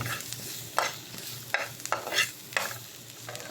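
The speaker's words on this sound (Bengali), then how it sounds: "এইভাবে সুন্দরভাবে নাড়িয়ে নেবেন" Chili powder being stirred into pig trotters cooking in a pan: a spoon scrapes the pan in repeated broad strokes, about six in a steady rhythm, over a low sizzle, close and fairly quiet.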